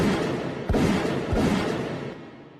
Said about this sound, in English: every time I hear those gunshots